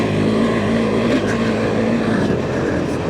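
A KTM 390 Adventure motorcycle rides off-road with a loud, steady engine drone close by and no talking.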